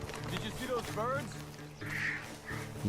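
Ducks in Red Dead Redemption 2 give a few short nasal quacks in quick succession near the start, under ambient game sound, followed by a whooshing burst of noise.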